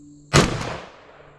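A single 12 gauge shotgun blast at a shooting range, loud and sharp with a booming low end, followed by a decaying echo lasting about a second.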